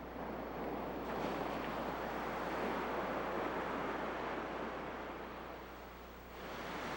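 Ocean surf washes steadily against a lava entry on a new black sand beach on Kilauea, a broad continuous roar with wind buffeting the microphone, easing slightly near the end.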